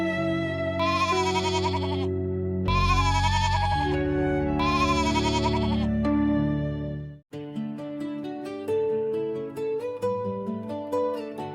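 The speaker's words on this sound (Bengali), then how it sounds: "ছাগলগুলো ডাকাডাকি শুরু করেছে" Cartoon goats bleat in three long, loud, quavering calls, followed by a lighter stretch of music with no talking.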